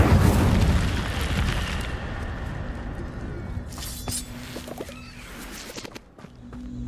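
A loud fiery burst from the Incendio fire spell in Hogwarts Legacy, a crackling whoosh that fades gradually over several seconds, with softer pops and faint footstep-like thuds toward the end.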